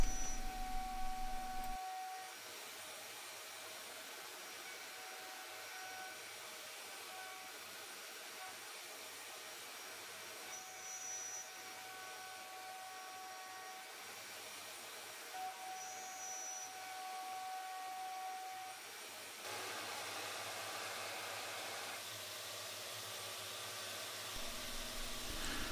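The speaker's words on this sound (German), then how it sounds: "Der Zapfen wird wieder mit einem 6 mm Fräser in mehreren Durchgängen gefräst." Steady loud whine of a Shaper Origin handheld CNC router milling a tenon for a workshop stool with a 6 mm bit in several passes, a continuous drone with faint tonal shifts and a brief change in pitch near the end.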